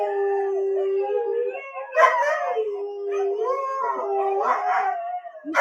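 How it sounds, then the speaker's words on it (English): A dog howls in long, wavering, rising and falling tones, close and loud, with a few breaks and yelping accents between drawn-out cries. "this sounds like Duchess's dog"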